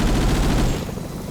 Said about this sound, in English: what I'm shooting right now in this game is supposedly, it looks like the M2 heavy machine gun 50 caliber machine gun